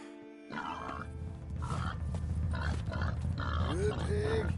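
Pig grunting in Red Dead Redemption 2, a few low rough grunts at close range over steady game ambience, with a rising squeal-like tone near the end.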